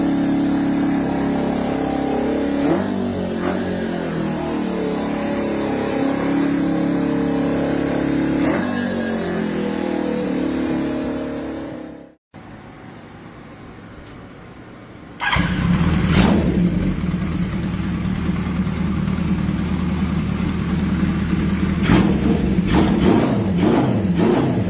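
A motorcycle engine idles steadily, then after a brief quiet gap restarts and revs in loud rising bursts, close by and with no talk.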